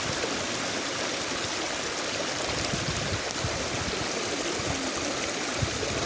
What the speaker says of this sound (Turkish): Bu da deniz akıyor işte bu suda.